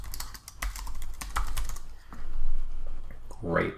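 Rapid clicking keystrokes on a computer keyboard while a name is entered, a dense burst of taps followed by a few scattered clicks, with a brief voice near the end.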